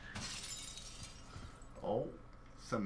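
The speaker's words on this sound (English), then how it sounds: "Oh, some glass broke." Glass shattering in a video game, a bright crash near the start followed by lingering tinkle, with people talking over it and a couple of later vocal bursts.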